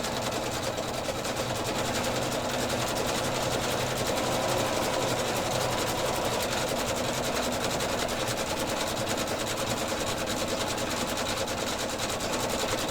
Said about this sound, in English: now it's filling it in with the zigzag